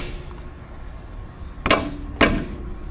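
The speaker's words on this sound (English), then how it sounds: "I think I just broke my ratchet" Two sharp metallic cracks about half a second apart ring out close and loud over a quiet workshop background as a ratchet gives way on a bolt during work under a GMT vehicle.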